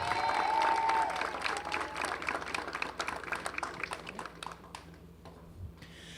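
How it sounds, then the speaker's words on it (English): A crowd at a university softball game applauds a graduating senior, dense clapping that starts full and gradually thins and fades over several seconds, heard alone without talk. "Round of applause, please, for Haley Shea."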